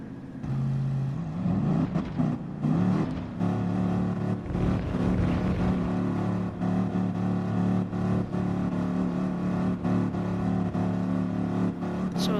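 Race car engines idling and revving on the grid at the Red Bull Ring start in Gran Turismo Sport, a loud continuous droning roar that swells and dips with throttle blips throughout.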